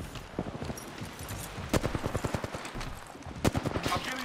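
Rapid gunfire in a video game strikes the player, coming as clustered bursts of sharp cracks, with louder volleys standing out, while a player's voice talks over the shooting.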